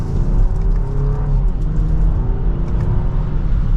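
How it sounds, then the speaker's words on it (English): A 2025 BMW X5 Silver Anniversary Edition accelerates in sport mode in second gear, its engine giving a steady, rising low drone heard from inside the cabin, loud and continuous. "let's go ahead and get this off-roader out on the road"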